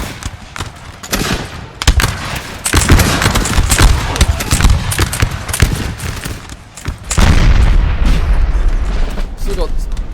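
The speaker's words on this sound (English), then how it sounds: "Still got Prussian artillery here as well, firing, trying to do some damage." Prussian artillery in a Napoleon Total War multiplayer battle fires in heavy, repeated booms, with a loud sustained barrage near the end amid general battle din.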